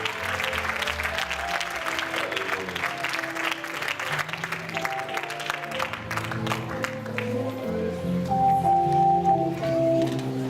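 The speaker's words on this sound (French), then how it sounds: "Est-ce qu'on peut encore acclamer le Seigneur très fort?" A church congregation claps and cheers loudly and steadily for a pastor's thanksgiving celebration, a dense crowd applause with musical tones underneath.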